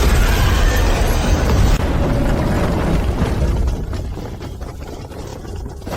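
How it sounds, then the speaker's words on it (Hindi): A loud, sustained explosive roar fills the opening seconds, then rumbles and slowly fades into a crackling, debris-like tail, with no talking. "इसे उड़ा दो।"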